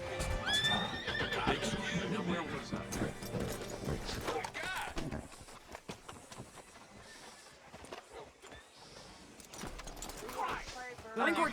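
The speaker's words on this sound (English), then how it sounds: "Hitch your horse up here." Horse in the video game Red Dead Redemption 2 neighs loudly near the start, with hoofbeats clip-clopping and further whinnies later, under game speech.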